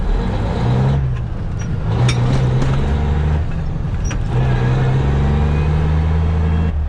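An empty grain truck accelerates through traffic, its engine loud and close with a low droning note that climbs in pitch, drops at each gear change and climbs again, with no talk.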